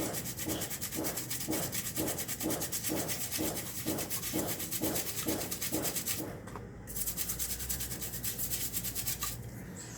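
Brass medallions rubbed clean by hand, a steady rhythmic scrubbing of about ten even strokes at close range, then a brief pause and softer rubbing toward the end, with no talking.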